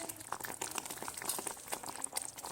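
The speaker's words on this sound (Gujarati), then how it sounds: "તો તેલમાં શેકાઈ રહ્યું છે આપણું પાલક।" Spinach with spices sizzles in oil in a pan, heard as a quiet, continuous spatter of tiny crackles and pops close by, with no talking.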